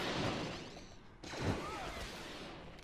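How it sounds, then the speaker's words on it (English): Enemies firing at the player in Disney Infinity 3.0, a dense burst of game gunfire and impacts, with a sharp blast midway that trails into continuing shots and energy effects. "they're all shooting at me"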